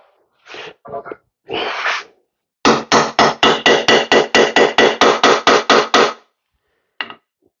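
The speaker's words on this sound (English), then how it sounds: "There's our hammer." A hammer strikes a flange during Honda CR125 Elsinore engine reassembly, with a few scattered hits and then a rapid, even run of about fourteen sharp, loud blows close by, with no talking.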